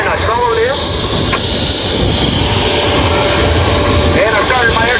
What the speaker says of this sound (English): The airplane I'm flying is a 1956 Piper Super Cub P-18A.